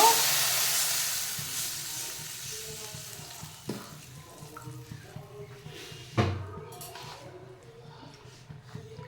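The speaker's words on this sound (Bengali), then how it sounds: "এবার জল দিয়ে দেব।" Water poured into green chillies frying in a kadhai sets off a loud burst of sizzling hiss that gradually dies down, broken by a few stirring clatters and knocks.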